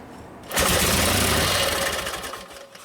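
A 1952 Harley-Davidson panhead FL with a Linkert carburetor catches on a kick and bursts into a loud, close rumbling run that fades and sputters down over a couple of seconds as it dies.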